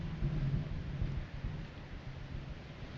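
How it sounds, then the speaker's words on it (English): Loud, intense thunder from a weather mod in Project Zomboid, a deep continuous rumble rolling over steady rain noise with no talking. "I don't know what kind of thunder that is."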